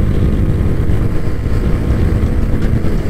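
TVS Apache RR 310 motorcycle accelerating hard in track mode, a loud, dense, low engine roar held steady throughout, mixed with heavy wind rush.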